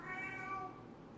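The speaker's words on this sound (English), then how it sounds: "Sorry about the cat." A male cat, just awake from a nap, lets out a single drawn-out meow indoors, close and moderately loud, with no talking over it.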